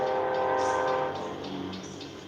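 An approaching train sounds a sustained, loud, chord-like horn that holds steady and then fades slightly, with a rumbling undertone behind it.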